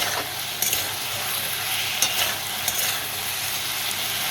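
Potato and eggplant with spices sauté and sizzle in hot oil in a pan, a steady, fairly quiet frying hiss broken by a few sharp scrapes and knocks as the spoon stirs.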